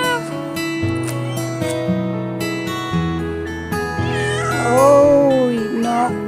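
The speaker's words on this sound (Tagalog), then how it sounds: "malambing talaga ang pusa" A cat meows repeatedly, close and fairly loud, with drawn-out rising and falling cries, the longest near the end, over steady musical background tones.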